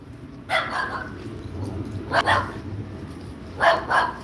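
A dog barks and yips in short bursts at three separate moments, fairly close, over a rumbling background with people's voices.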